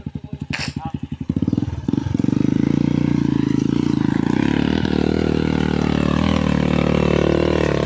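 Loud motorcycle exhaust opens with rapid sputtering pulses, then settles into a steady, close, throaty roar that holds to the end.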